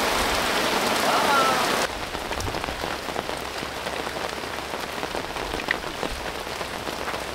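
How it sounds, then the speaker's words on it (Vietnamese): Heavy rain pours steadily onto surfaces beside a village canal, a loud dense wash that drops slightly in level after the first two seconds and continues without pause; no voices are heard. "Mưa quá."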